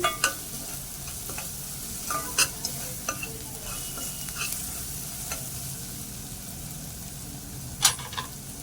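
Malvani masala stirred and sautéing in a pan for a traditional Konkan bitter val birde, a steady low sizzle broken by sharp scrapes and clinks of the spoon against the pan.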